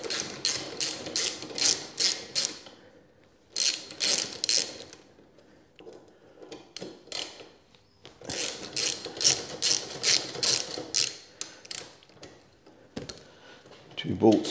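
Bolts holding the grab rail on a Royal Enfield Classic 350 motorcycle are loosened with a ratchet, giving bursts of rapid, close metallic clicking separated by short pauses, with a voice briefly audible.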